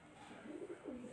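A pigeon coos softly nearby, a brief low murmuring call over quiet background noise.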